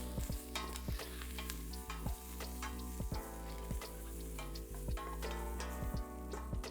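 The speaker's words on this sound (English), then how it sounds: "We're gonna give that a little stir." Acorn squash soup being stirred in a pot, a spoon scraping and knocking in repeated strokes against a soft bubbling sizzle, close and fairly quiet with no voices.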